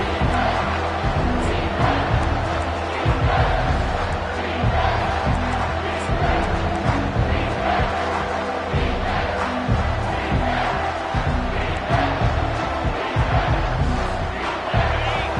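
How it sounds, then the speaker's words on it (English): A big football stadium crowd roars steadily behind the defense during a red-zone stand in a UT vs OU game, a loud, dense wall of cheering and yelling that stays at full volume throughout. "The crowd getting behind this defense as they try to get a stop in the red zone."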